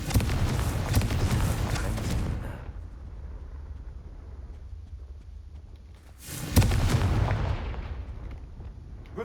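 Fire blasts from the Confringo spell erupt in the Hogwarts Legacy video game: a loud, rumbling explosion fades over about two seconds, then a lull, then a second heavy blast bursts and slowly decays.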